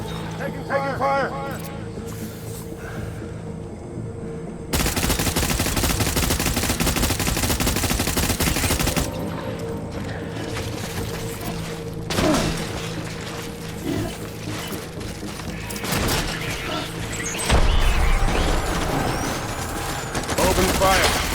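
Video game gunfire in Death Stranding on PS4 erupts as dense, sustained bursts of shots and crashes over a steady rumbling battle bed, with shouted voices mixed in.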